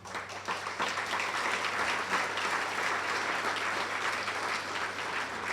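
Audience applause following a school district address, a steady wash of many hands clapping from a large crowd, moderately distant and sustained for several seconds with no talk over it.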